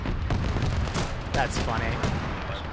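Heavy bolter gunfire in a Warhammer video game, heard as rapid overlapping booming bursts and crackling shots in a dense, chaotic battle mix, with someone talking over it.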